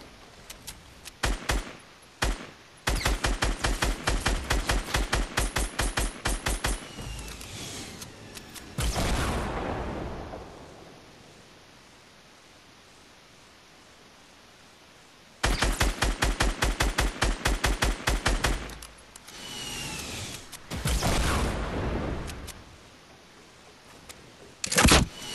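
Gunfire in a shooter video game: long rapid automatic bursts in two main volleys with scattered single shots and brief pauses between, loud and close with no talking.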